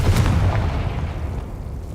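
A Confringo fire spell explodes in the Hogwarts Legacy video game: one deep, heavy boom at the start that fades into a low rumbling tail, with no voices over it.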